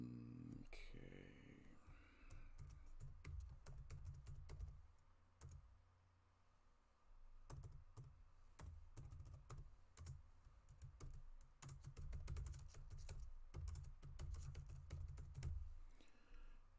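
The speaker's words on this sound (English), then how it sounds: "Normally you guys don't get to hear all those keystrokes" Computer keyboard keystrokes typed in bursts of rapid clicking with brief pauses, close but fairly quiet, with a short voice-like sound near the start.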